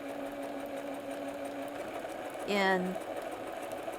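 Sewing machine stitching a cactus quilt appliqué, a quiet steady motor hum with a short burst of faster stitching near the end, under soft talk.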